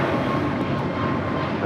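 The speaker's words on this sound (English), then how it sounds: "An A321neo now taking off on 25 right." An Airbus A321neo jet on its takeoff run at Los Angeles International Airport, a steady broad engine roar heard from a moderate distance with no talking over it.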